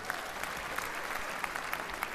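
A concert audience applauds footballers, a dense, even patter of many hands clapping at once, fairly loud and continuous over a couple of seconds.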